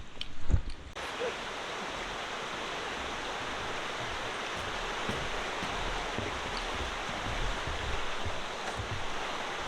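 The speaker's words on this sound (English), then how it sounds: "behind us is Galeni Falls Waterfall" Galeni Falls waterfall in Great Langdale, Cumbria roars as a steady, broadband rush of falling water that fills the scene, after a brief bump of handling noise at the start.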